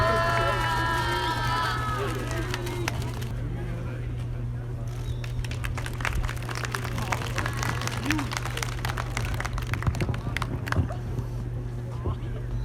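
Audience applause at a ceremony commemorating the 106th anniversary of the March 1st independence movement, steady crowd clapping carrying on for several seconds over a constant low hum, with voices briefly heard at the start.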